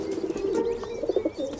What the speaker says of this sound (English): Feral pigeons are a lot smarter than they may look.